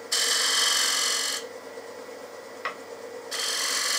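A wood lathe running at about 1400 rpm as a 3/8 bowl gouge with a swept-back grind cuts a spinning bowl, giving a steady close hiss of shaving that drops off midway, with one brief scrape, then resumes.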